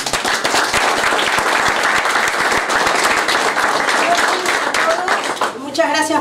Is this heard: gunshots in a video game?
no